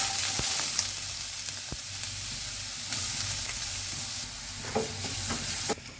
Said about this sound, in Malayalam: അതേ പാനിൽ ആ എണ്ണയിലേക്ക് നമ്മൾ നല്ലതുപോലെ പൊടിയായിട്ട് അരിഞ്ഞു വെച്ച സബോള ഇട്ട് കൊടുക്കുക